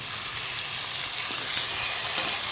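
Tomatoes sizzle and fry in ginger garlic paste, a steady close crackling hiss with no voices.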